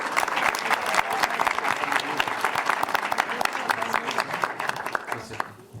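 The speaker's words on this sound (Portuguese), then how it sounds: "Enquanto vocês descansam as mãos pelas palmas" Sustained audience applause fills a forum hall in Oxford, dense steady clapping from a large crowd that tapers off at the end.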